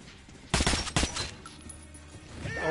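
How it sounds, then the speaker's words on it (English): Bursts of gunfire in Metro Last Light, two sharp loud shots close together followed by fainter scattered reports and echoing tail in an underground setting. "Oh, he shot me, Yanni."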